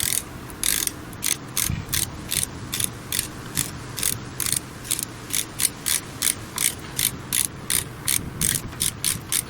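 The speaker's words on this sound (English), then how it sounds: "doing one side and then tightening up the other side gradually until the correct torque is reached." Rapid ratchet clicking in short bursts as a socket wrench tightens the chainring bolts on a road bike, a steady run of repeated close, crisp ratcheting strokes with no talking.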